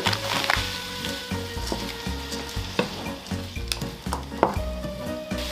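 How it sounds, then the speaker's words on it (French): Chanterelles and onion fry in a pan with a continuous crackling sizzle, punctuated by repeated knocking stirs and scrapes of a utensil, close and fairly loud with no speech. "On lance la cuisson des chanterelles ou des girolles et de l'oignon."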